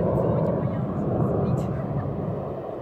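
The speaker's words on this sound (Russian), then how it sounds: "Такие вот красивые истребители." Fighter jets flying over the Black Sea coast, a broad, steady roar of distant jet engines rumbling continuously at moderate level without a clear start or end.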